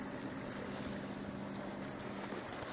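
A sailboat under way beneath mainsail and genoa with its motor running, a steady engine drone beneath continuous wind and water rush, at dusk.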